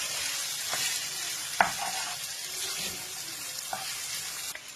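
Vegetable or chicken noodles go into a hot pan and are stir-fried, a steady soft sizzle with a few scraping clinks of the utensil against the pan.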